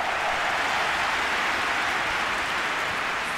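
Steady, dense crowd applause and cheering fills a simulated football match between Côte d'Ivoire and DR Congo at the Africa Cup of Nations, a continuous broadband roar that holds at the same level throughout.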